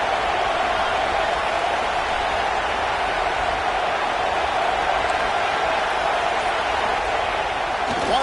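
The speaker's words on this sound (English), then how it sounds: "Listen to this crowd just shaking the girders of this place" Football stadium crowd roaring to help the defense, a dense steady wall of cheering noise with a commentator talking over it throughout.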